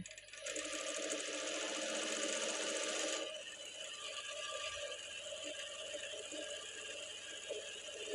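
A sewing machine runs a light stitch along the folded edge of a blouse, a fast steady whirring mechanical rattle that is loudest over the first few seconds, then continues a little softer.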